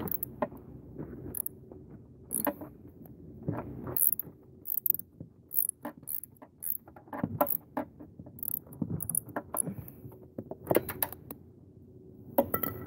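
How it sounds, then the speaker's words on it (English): A bolt is worked loose on a Briggs generator during ignition coil replacement, giving scattered close metallic clicks, ratcheting and tool clinks in irregular bursts over a quiet background, with no voices. "try to take this bolt out"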